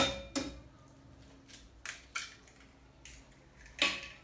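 Eggs are mixed by hand into sugar and oil for carrot cake batter, with a handful of scattered, faint clinks and scrapes of utensil against bowl separated by quiet gaps.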